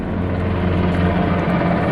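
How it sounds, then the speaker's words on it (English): A helicopter passes overhead at an outdoor campsite, its steady, loud rotor and engine drone filling the air without a break and with no voices. "Got a helicopter going over"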